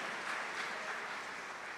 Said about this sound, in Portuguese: você poderia dar um forte aplauso a Jesus